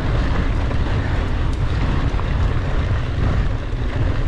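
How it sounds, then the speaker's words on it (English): Strong wind buffets the microphone on a Lake Havasu mountain bike trail, a steady loud low roar of gusts filling the whole stretch with no talk. "It's very windy."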